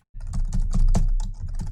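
A computer keyboard is typed on in a quick, steady burst of close, loud key clicks, with no voice over it.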